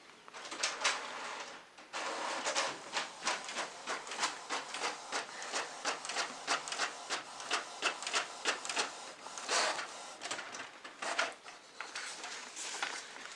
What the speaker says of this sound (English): Here it comes, it's starting, the print is starting.